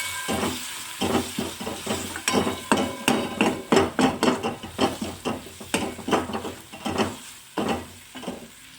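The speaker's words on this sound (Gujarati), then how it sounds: "હવે આપણે બધા જ મસાલાને મિક્સ કરી દઈશું." Chili powder and Maggi masala being stirred together in a pan, heard as a brisk run of rhythmic metallic knocks and scrapes from a spoon striking the vessel, close and fairly loud, with no talking.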